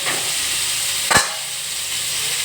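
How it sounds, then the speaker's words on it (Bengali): Boiled papaya dropped into hot oil tempered with mustard seeds and chilli gives a steady close sizzling hiss, with one sharp burst of spitting about midway, for a green papaya chhechki. "আমি এবার সিদ্ধ করা পেঁপে গরম তেলের মধ্যে ছেড়ে দিলাম"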